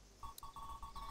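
A telephone rings in repeated electronic tone bursts in a video game scene, five short pulses close together over low rumble, with no voices.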